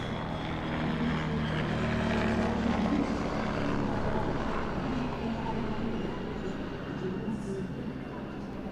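Propeller aircraft flying a display at the Leszno airshow, its engine drone a steady, moderately distant rumble running throughout beneath a commentator's talk.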